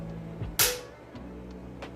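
Hyaluron Pen needle-free injector firing once during a body treatment, a single sharp loud snap that fades quickly over a low background hum.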